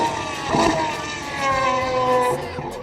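A Pagani Huayra Revo Roadster's V12 engine sounds on a track as the car brakes for a chicane, a loud, steady engine note with falling pitch tones and gear changes, alone without talk.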